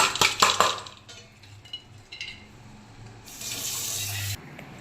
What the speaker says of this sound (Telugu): మళ్ళీ ఒకసారి వాష్ చేసుకోవాలి. ఇట్లా అయితే వడపోసుకోవాలి